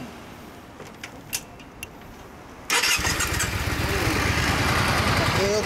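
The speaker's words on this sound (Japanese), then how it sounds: "このエンジンかけてもらおうかな。" A Yamaha DragStar 400 motorcycle engine cranks and catches abruptly, then settles into a loud, steady idle close by, with faint scattered sounds and voices before it fires.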